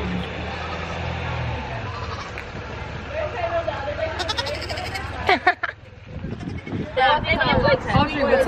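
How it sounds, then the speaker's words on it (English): A goat bleats in short wavering cries on a farm during a goat yoga outing, mixed with nearby people talking and a passing rumble in the background. "Aster is a daisy fed goat."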